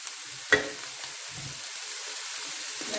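Chicken chow mein noodles frying in a pan while being mixed, one sharp clack of a utensil against the pan over a faint ongoing sizzle, followed by softer scraping.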